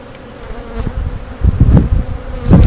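Honeybees buzz loudly and close around an opened hive during a routine inspection, with a steady drone swelling in bursts as bees fly near.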